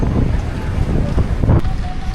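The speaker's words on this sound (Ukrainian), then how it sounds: "вітер не вщук, мені здається, навіть ще силіше посилився" Strong wind gusts buffet the microphone during a rainstorm on a street in Vietnam, loud and uneven, with faint voices briefly underneath.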